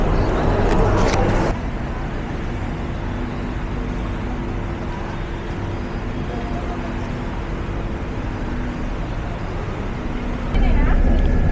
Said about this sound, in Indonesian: Ini aku udah di dalam bus lagi